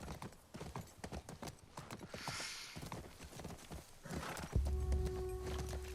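Horse hooves clip-clop in a video game, a steady run of hoofbeats with a whinny partway through, followed by a mechanical clunk and a sustained hum near the end, with no talking.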